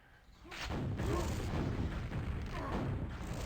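Rocket explosions boom in a QuakeWorld duel, a heavy sustained rumble of blasts and gunfire that starts abruptly and stays loud, with a voice talking over it.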